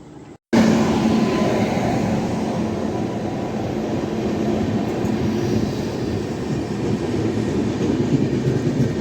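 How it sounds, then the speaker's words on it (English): A long LHB express train passes loudly and steadily through Sanath Nagar station in Hyderabad, a sustained close roar with wheel rumble that holds for several seconds after a brief quiet start. "another LHB train is coming."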